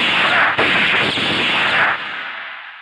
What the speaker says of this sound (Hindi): ये गोलियां तो हवा में चली हैं